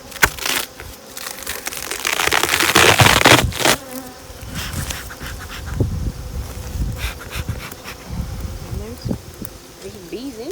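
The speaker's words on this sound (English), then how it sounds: "There's bees in here." Honeybees swarm and buzz densely around an open backyard hive box being moved. The buzzing is loud, close and continuous, with handling crackles and a few brief knocks.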